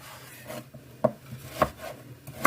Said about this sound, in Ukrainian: Так, ось так я подрібнила такими невеличкими шматочками